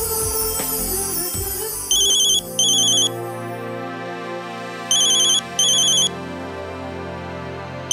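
A phone ringtone plays a repeating electronic melody in short bursts, clear and fairly close, over a quiet room with some background music at the start.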